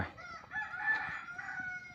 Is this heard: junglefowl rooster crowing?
yes